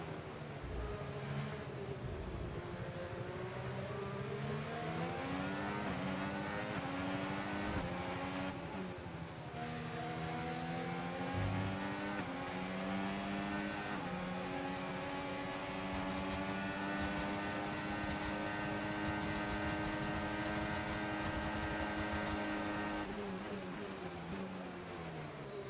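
Formula 1 race car engines roar continuously in the F1 25 video game, a sustained high-pitched whine with rising and falling pitch sweeps as gears shift, loud and close throughout with no talking.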